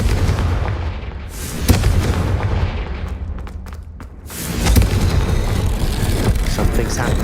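Hogwarts Legacy game audio as the Confringo fire spell goes off, with loud booming blasts and crackling bursts that fill the mix, briefly drop away in the middle, then swell again. A voice calls out over it.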